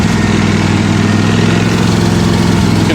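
A John Deere X570 lawn tractor engine runs steadily at close range, a loud, even idle drone with a low rhythmic pulse throughout and no talking.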